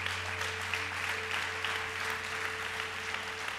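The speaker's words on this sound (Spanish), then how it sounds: "Now stop, let's stop the applause." A church congregation claps together in a dense, steady burst of applause that fills the room throughout.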